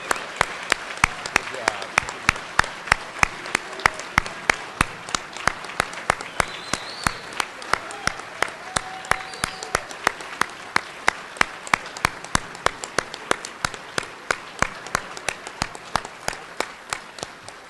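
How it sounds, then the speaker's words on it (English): Guests at a graduation dinner clap for the graduates, a long run of crisp, evenly spaced claps in a slow steady rhythm over a soft background of room murmur. "give them a rousing round of applause"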